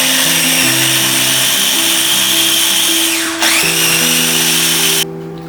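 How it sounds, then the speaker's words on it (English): A blender loudly grinds kale soba sauce in a steady high whine with a shifting motor pitch, dipping and surging midway before the motor cuts off near the end. "Once it's been mixed up in the blender, you can open it up and see the thickness of your sauce."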